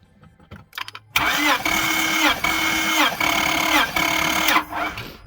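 A 2004 Honda Accord engine cranks and catches, then runs with a loud, steady, slightly uneven idle and small rhythmic dips as coils are pulled one by one, close up with no talking.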